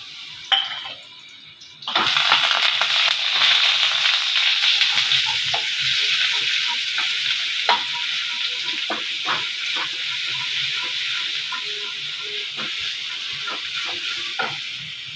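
Garlic paste hitting about half a spoon of hot oil in a pan, a sudden loud hiss that settles into a steady close sizzle, with scattered clinks of a spoon stirring against the pan.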